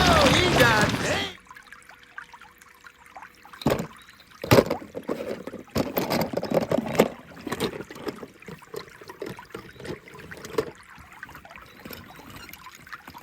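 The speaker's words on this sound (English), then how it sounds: "Here comes a nice fresh pour! Pour it out." Liquid pours and splashes in an uneven trickling stream after a brief loud burst, with scattered clatters and water sounds continuing at moderate volume.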